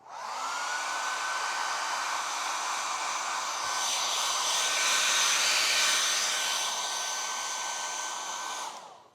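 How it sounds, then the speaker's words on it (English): A hair dryer blows continuously at close range to dry paint on a model aircraft, a steady whooshing hum that swells slightly midway before cutting off at the end. "If I want to do it a little quicker, I'll hit it with a hairdryer."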